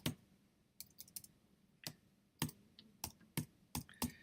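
Quiet, close computer keyboard typing: a dozen or so separate key clicks in an uneven rhythm with short pauses, no voices.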